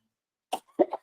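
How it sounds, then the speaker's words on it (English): A single person coughing a few times in a quiet room, one sharp cough followed by a brief double burst, close and fairly soft, with no talking. "I had to cough"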